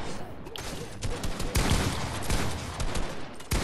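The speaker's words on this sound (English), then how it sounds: "Do you hear the shooting through my TV?" Bursts of rapid Fortnite gunfire play through a TV speaker in a room, heard as dense, continuous rattling shots with loud clusters, over faint background noise.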